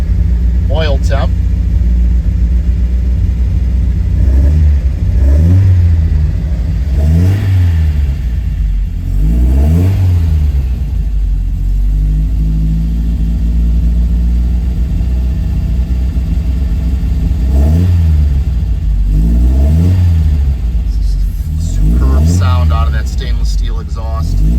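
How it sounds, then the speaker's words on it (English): A 1971 Alfa Romeo GTV engine with a stainless steel exhaust is revved repeatedly over a rumbling idle after a cold start, rising and falling blips of exhaust roar at irregular intervals, loud and close. "listen to the engine from outside, listen to the exhaust for a short while"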